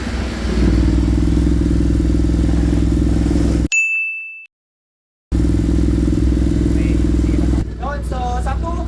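Honda X-ADV750 motorcycle fitted with an IXrace exhaust with a dB killer and no silencer, running loud and steady at close range, briefly cutting to silence before the engine drone returns, with a voice speaking over the end.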